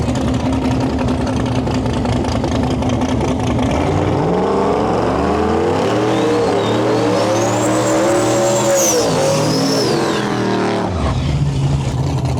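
A Ford Mustang in a Limited Street drag racing qualifying run, carrying a turbo, idles loudly, then roars through rising and falling revs with tire squeal before settling back, close and dominant.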